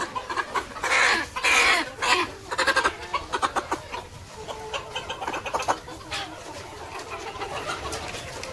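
A hen being vaccinated clucks loudly and close by in a rapid, uneven series of calls with a few sharper squawks, then trails off into quieter clucking.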